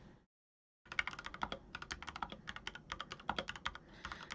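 Fingers type on a computer keyboard in quick, uneven bursts of close, crisp key clicks that start after a short silence and continue steadily, with no one speaking.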